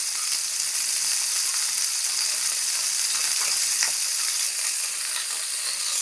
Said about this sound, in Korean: 뒷면이 좀 익으면 다시 앞면으로 돌려서 살짝 한번 더 익힐게요.